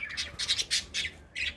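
A pigeon squawks repeatedly at close range, five or six harsh, raspy bursts in quick succession with brief gaps between them.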